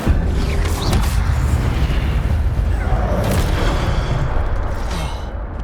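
The Incendio fire spell is cast in Hogwarts Legacy, giving booming, crackling magical bursts over a dense, loud wash of combat noise that lasts several seconds without talk.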